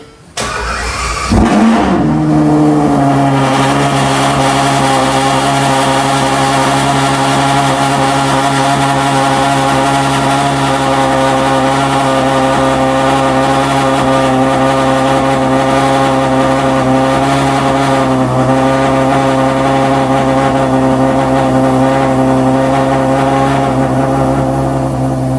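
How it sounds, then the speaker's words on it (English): A Ferrari 812 Superfast V12 cranks over and settles into a loud, steady idle close by, its deep rumble holding strong and even throughout with no talking. "Now I'm gonna demonstrate what this car sounds like."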